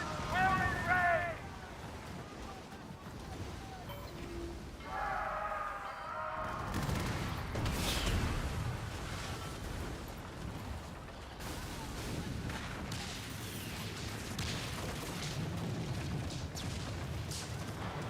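Ship cannon fire in the naval game Skull and Bones, with heavy booming blasts and rumbling impacts over wind and water noise, fairly distant and muted. A voice shouts orders partway through.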